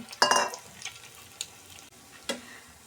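Chicken shami kebabs frying until brown, heard as short bursts of oil sizzle and spatter with quiet pauses between, close and fairly soft, no voices.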